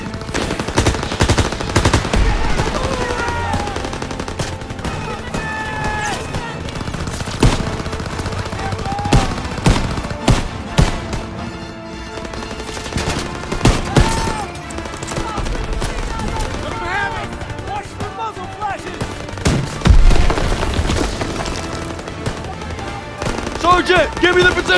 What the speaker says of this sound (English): Lobbing a grenade!